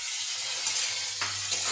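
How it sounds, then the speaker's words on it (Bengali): Bay leaves frying in oil in a pan while khichuri is being made give a soft, steady sizzle heard on its own, with a few faint stirring scrapes and no talk. "এরপর আমি এখানে তেজপাতা একটু ভেজে নিচ্ছি।"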